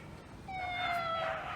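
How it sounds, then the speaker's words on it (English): A cat gives one drawn-out meow that rises and then fades. It is clear but fairly soft, with no voices around it. "And one cat meowed,"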